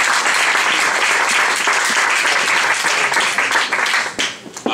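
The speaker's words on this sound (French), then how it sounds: "On peut l'applaudir?" Lively audience applause at a live comedy show in a small venue, dense sustained clapping from a crowd lasting several seconds before trailing off near the end.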